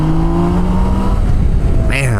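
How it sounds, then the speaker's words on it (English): A BMW 1600 GT accelerates hard in third gear from about 33 mph, its engine note loud, close and steadily rising, with a brief shift or change near the end. "I'm gonna get on the throttle"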